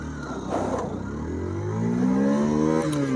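A Hero Xtreme 160R motorcycle, 2025 model, accelerates hard in first gear, its engine note rising steadily in pitch and loudness over a few seconds, heard close.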